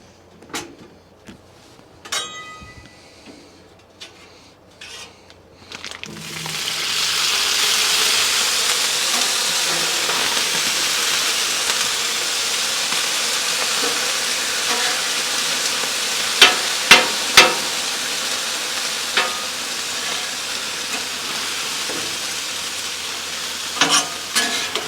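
Pre-cooked little smoky sausages sizzle and fry in oil on a Blackstone griddle, a steady, loud hiss that begins abruptly after a few quiet clatters and continues with occasional scraping taps.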